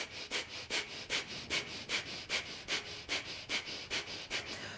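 Rapid, rhythmic nasal breathing during a yoga session, with about a dozen sharp, close inhale-exhale puffs in steady succession and no talking.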